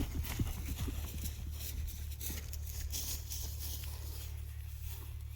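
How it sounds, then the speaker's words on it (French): Horses run at a farm: a few faint, quick hoofbeats patter early on over a steady low rumble that continues to the end. "Vous aurez bientôt des hectares et des hectares pour galoper comme ça."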